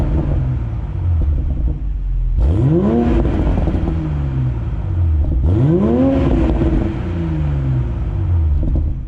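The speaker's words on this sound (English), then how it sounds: "Here we go, we'll put it into sport mode. This is what it sounds like inside the car." Engine and exhaust of a car in sport mode heard from inside the cabin, droning steadily with two rising rev sweeps that climb and fall back, loud and continuous throughout with no talking.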